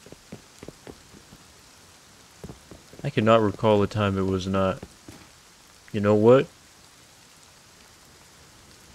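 Steady rain patters in a video game, a soft continuous hiss with scattered drops, while a voice talks over it in the middle.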